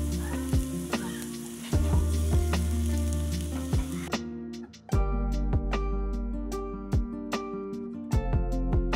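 Onion and garlic paste frying in oil with cardamom, cinnamon, cloves and a little sugar, a steady close sizzle broken by sharp clinks and scrapes of a spoon against the pan.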